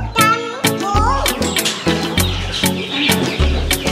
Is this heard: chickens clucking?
yes